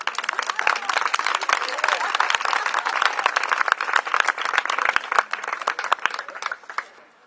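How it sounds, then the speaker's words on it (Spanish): An audience at a storytelling event of mystery tales gives a loud, hearty round of applause, thick continuous clapping mixed with crowd murmur that carries for about seven seconds before tapering away. "les pido un fuerte aplauso"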